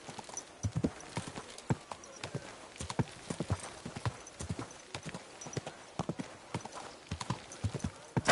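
Horse hooves clip-clopping at a steady walking pace in a medieval video game, sharp close knocks in an even rhythm, fairly quiet, with no talking.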